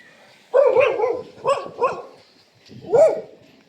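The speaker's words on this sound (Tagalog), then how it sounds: "daming aso dito" Several dogs bark behind a high fence and gate at a kennel-like yard: a cluster of close, loud barks and yips, two quick follow-up barks, then one more bark after a short pause, with no talking.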